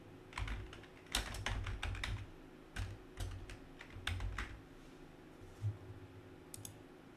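Light, close clicks of someone typing a URL on a computer keyboard, in quick irregular runs with short pauses, quiet and alone.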